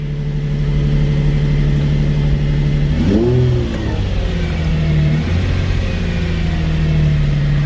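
A Nissan 350Z engine running steadily and loudly up close, with a brief rise and fall in revs partway through before settling back to a constant idle drone.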